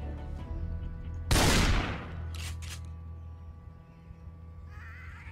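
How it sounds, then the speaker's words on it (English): A single sharp burst of gunfire in the Project Zomboid video game, loud and close, followed by a fading ring and quieter faint clicks over a steady background hum. "let's do some shooting"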